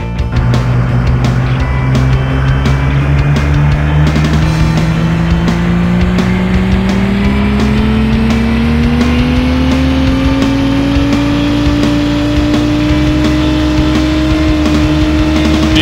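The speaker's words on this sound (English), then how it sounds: "Gentlemen, start your engines!" Race car engines in the City Racing 3D game rev loudly and continuously, the pitch climbing steadily as the car accelerates, with a dense mechanical roar throughout and no talk.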